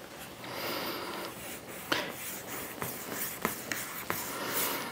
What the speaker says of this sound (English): So remember, we filled it this way, so I'm just gonna cut it right in half.